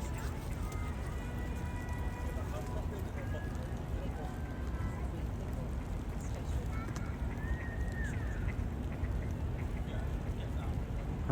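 Ducks and Canada geese chatter and quack softly while feeding in Central Park, scattered calls and honks over a constant low rumble, with people talking nearby.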